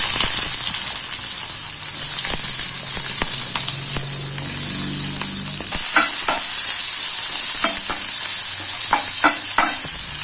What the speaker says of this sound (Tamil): நம்ம 2 பெரிய வெங்காயம், 2 பெரிய தக்காளி கட் பண்ணி வச்சுருக்கோம். அதையும் நம்ம ஆயிலில் போட்டு வதக்கிக்கலாம்.